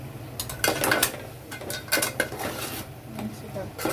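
A spoon clinks and scrapes against a pot while fish curry ingredients with chili powder and coriander powder are stirred, Nellore-style chepala pulusu, in a series of close metallic taps and rattles.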